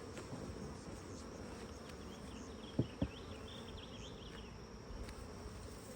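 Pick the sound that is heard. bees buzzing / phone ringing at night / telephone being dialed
bees buzzing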